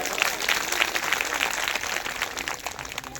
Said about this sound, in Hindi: जोरदार अपने लिए ताली बजा दो